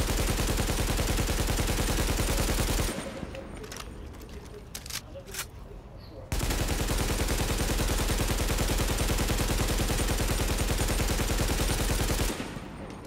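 An AK assault rifle in the video game The Division firing long uninterrupted automatic bursts, a loud continuous rattle that stops briefly for a few seconds and then resumes for about six more seconds.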